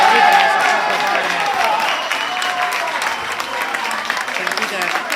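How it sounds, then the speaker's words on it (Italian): A crowd at an amateur football match in Sicily applauds steadily as a player gets back up after a hard knock, the clapping sustained and fairly loud throughout. "Sentite, gli applausi sono proprio per lui."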